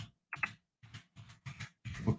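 A computer keyboard is typed on in short bursts of close, crisp key clicks, five or six quick clusters separated by brief silent gaps.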